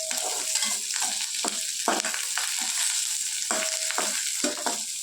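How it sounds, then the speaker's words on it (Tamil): Curry leaves frying in a pan, a constant light sizzle with irregular stirring scrapes and clinks of a spoon against the pan, close and clear with no talking. "கொஞ்சம் கருவேப்பிலை, கொஞ்சம் பொன்னிறமாக வரைக்கும் லைட்டாக ஒரு எல்லோ கலரில் வந்து அந்த மாதிரி ப்ரௌனாக இருக்கிற வரைக்கும் கொஞ்சம் லைட்டாக வதக்கணும்."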